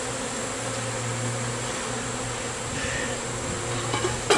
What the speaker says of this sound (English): Bees flying everywhere now.